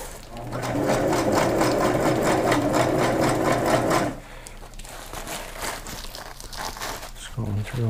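A sewing machine stitches anorak fabric, running loud and steady for about four seconds, then stopping; afterward rustling fabric and handling noises continue while a person talks.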